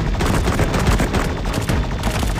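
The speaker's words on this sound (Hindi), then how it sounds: "बहुत फायर कर रहा है रोबोट" Robot enemy firing guns in the mobile shooter Cover Fire, a loud, continuous barrage of rapid overlapping gunshots with heavy low-end thumps throughout.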